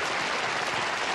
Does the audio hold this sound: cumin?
no